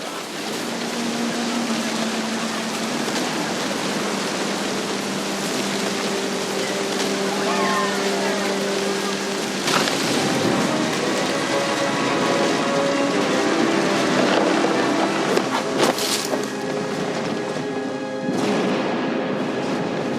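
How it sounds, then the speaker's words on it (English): Heavy thunderstorm rain in the video game What Remains of Edith Finch, a steady loud downpour throughout with sharp thunder cracks rolling in mid-clip and again near the end, over a low musical drone. "thunder sounded much too close and full of angry power"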